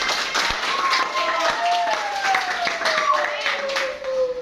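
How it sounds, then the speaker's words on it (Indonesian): Pupils in a classroom clap their hands together during an Indonesian dance lesson, a fairly steady patter of claps with a few sharper hits, mixed with children's voices and tonal chatter throughout. "Oke, boleh tepuk tangan."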